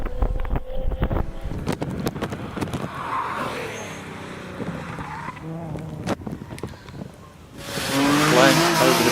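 A Nissan 350Z race car powers up a hillclimb course, engine note rising and falling through gears with tire noise, then a loud rush of wind near the end.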